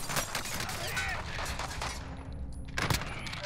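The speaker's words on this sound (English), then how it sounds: "I eliminate a full squad with the shotgun." Shotgun blasts in the video game Warzone ring out in a short volley of sharp reports over busy game ambience.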